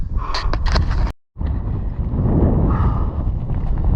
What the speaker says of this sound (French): Un petit vent se lève, bien glacé.